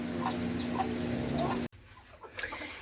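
Chickens cluck softly in a coop over a steady background hum, with scattered short calls, before the sound cuts abruptly to a quieter, sparser scene.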